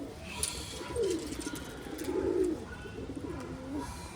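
Pigeons coo in a Punjabi rooftop loft during preparation for the summer flying season, with soft repeated low coos rising and falling over steady outdoor background noise at moderate distance.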